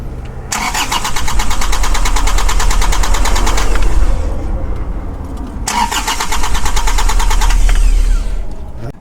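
A brand new car's engine cranks but fails to catch: two long bursts of starter whirring, each about three to four seconds, loud and close over a steady low hum, with no talk.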